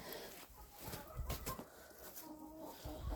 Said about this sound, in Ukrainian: Сюди заходять інші курочки і півнички.